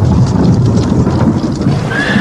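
An approaching thunderstorm as a sound effect in an audiobook: a dense, continuous low rumble with hissing, rain-like texture, loud and unbroken, with no voice over it.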